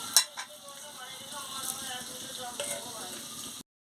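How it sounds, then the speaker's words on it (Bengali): Water hits cabbage curry in a hot pan with a loud burst of sizzling and a metallic clink as the lid goes on, then steady bubbling hiss underneath. "জল দিয়ে চাপা দিয়ে দিচ্ছি"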